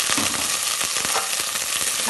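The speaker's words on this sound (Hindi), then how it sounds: "मक्खन में जैसे ही आप हल्दी को पकाएंगे बड़ी अच्छी खुशबू आएगी।" Turmeric cooks in melted butter for a desi chicken broth, producing a loud, close, hissing sizzle with scattered sharp pops and light stirring scrapes, with no talk.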